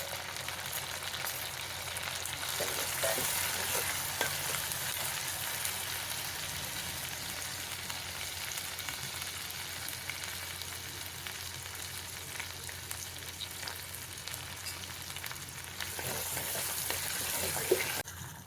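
Small whole shallots frying in a clay pot for fish curry give a steady, dense sizzle throughout, close and moderately loud, with a few faint stirring knocks and no talking.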